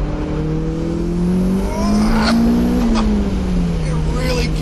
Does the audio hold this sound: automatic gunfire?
no